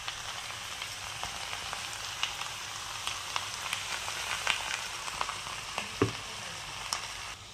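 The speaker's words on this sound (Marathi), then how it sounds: "आपण ही मेथीची भाजी परतून घेतोय।" Fenugreek (methi) leaves with garlic sauté in a pan with a soft, continuous sizzle. Faint scraping stirs come through, and one sharper knock sounds near the end. No one speaks.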